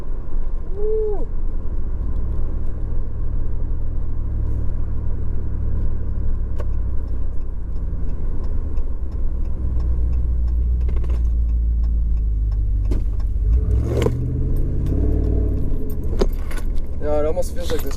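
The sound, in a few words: truck with Carven Competitor Series exhaust driving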